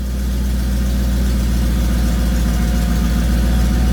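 A Mercedes CLK55 AMG with a swapped M113K supercharged V8 idles loudly and close up, a low continuous rumble with a slightly uneven, shaky pulse.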